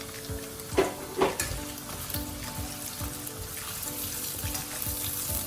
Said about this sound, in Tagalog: Okay guys, kapag mainit na ang ating cooking oil, maglagay na tayo ng carrots. Ito-fry natin ng carrots.